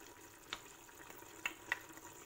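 Meat frying in a pan as parsley and coriander are stirred in, for a Moroccan taqliya offal dish: a faint, continuous sizzle broken by a few quiet scraping clicks of the stirring utensil.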